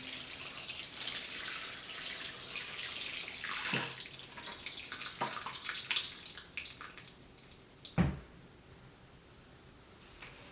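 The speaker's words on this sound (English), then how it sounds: "I have some water and I'm just going to start pouring that in" Water poured into a tray of seed starting mix while sowing lisianthus and geranium seeds, a steady close wash of running liquid with light splashing and one sharper splash near the end.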